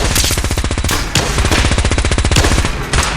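Rapid automatic gunfire in the Fallout game Brotherhood of Steel, loud continuous bursts of fast regular shots with brief gaps, dense and close, no talking.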